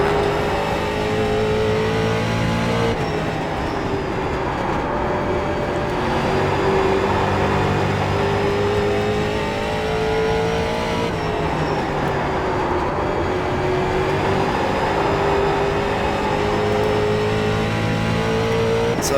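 A street stock race car engine in the iRacing sim drones steadily and loud at South Boston, its pitch rising and falling with throttle through the corners over a narrow short track, with no talk.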